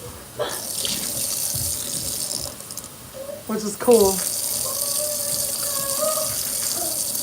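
Tap water runs into a sink while a small child splashes and plays in the stream, the flow gurgling and shifting in pitch as hands break it, with brief adult speech over the water.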